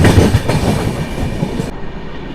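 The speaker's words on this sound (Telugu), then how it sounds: "ఇది విశాఖ ఎక్స్ప్రెస్. విశాఖ ఎక్స్ప్రెస్ అయితే మన ట్రైన్ అయితే ఓవర్టేక్ అయితే చేస్తుంది." Visakha Express passing alongside a moving train near a junction, a loud continuous rumble of wheels and rushing wagons heard close by from on board, with no talking.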